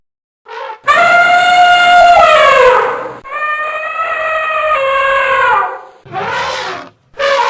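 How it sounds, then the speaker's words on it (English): An elephant trumpets in loud, brassy, drawn-out blasts, two long ones and then shorter bursts, close and alone. "elephant"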